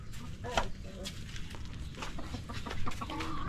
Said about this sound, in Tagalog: Mga manok na.